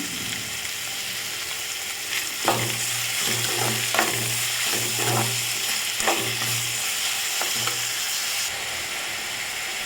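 Tomatoes and onions sautéing in a pan with salt for a Tirunelveli-style elephant foot yam tamarind curry, under a steady close sizzle broken by repeated scraping stir strokes, without talk.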